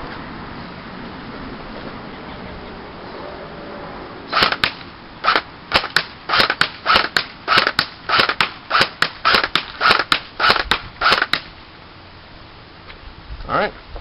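A Classic Army SL8 airsoft rifle fires semi-auto at a target about 50 feet away, a quick run of roughly fifteen sharp, snappy shots at a steady rhythm, close and loud over a low background hum.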